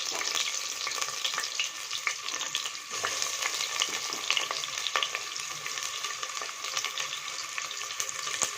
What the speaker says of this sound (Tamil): நல்லெண்ணெய் சூடாயிடுச்சு. வெங்காயம் போட்டுக்கலாம்.